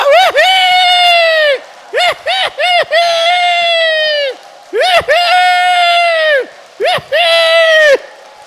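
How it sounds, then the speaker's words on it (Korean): A standing audience at a family festival cheers in repeated bursts of loud, rising-and-falling whoops that swell and break off over several seconds. "박수!"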